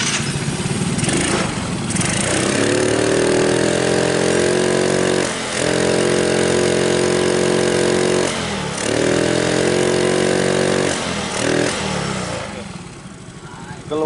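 A Yamaha Mio J scooter with a hesitating, stalling-prone throttle runs close and loud, its engine revving in long sustained bursts that sag and dip briefly between pulls, with a faint voice underneath.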